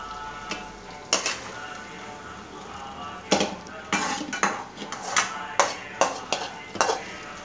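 Sautéed chutney ingredients being scooped from a pan into a mixer jar, a series of sharp close metal clinks and scrapes of a spoon against the vessels over a faint background sizzle.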